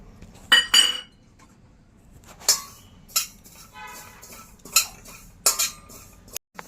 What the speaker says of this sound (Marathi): तर सगळ्यात पहिल्यांदा मी आधी खसखस भाजून घेते